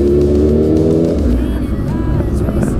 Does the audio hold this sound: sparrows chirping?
no